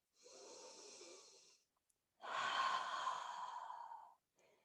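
Two deep breaths during a yoga chest-opening stretch, a long exhale followed by a fuller, louder one, close and breathy with short silences between.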